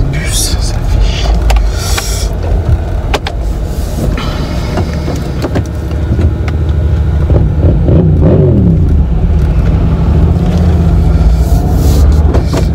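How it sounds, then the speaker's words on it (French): A bus passes along a city street, making a loud, continuous rumble and roar of engine and traffic that swells and shifts throughout. "il y a un bus, ça fait chier"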